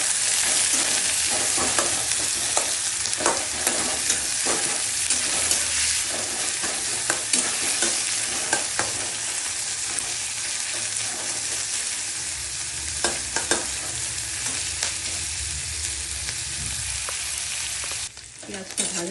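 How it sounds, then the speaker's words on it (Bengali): Onions frying in hot oil for a Bengali fish curry, a steady loud sizzle with repeated stirring scrapes throughout, no voices. "পেঁয়াজটা ভাজা ভাজা হয়ে গেছে"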